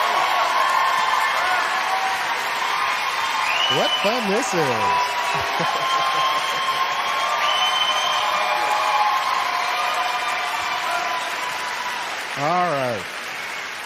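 Audience applause for the Bee Gees (Maurice, Robin and Barry) as they are introduced on stage, a steady dense clapping with scattered whoops that carries on beneath a presenter's talk throughout.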